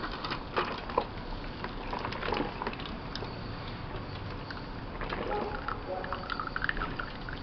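Electric drip coffee maker, repaired after leaking, heating water as it rises: soft continuous gurgling and bubbling with small irregular pops, close and fairly quiet.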